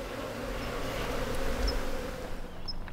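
Honeybees hum around a rescued, relocated hive kept for a resident, a continuous low buzzing drone with occasional brief passes of individual insects near the microphone, steady and moderately faint.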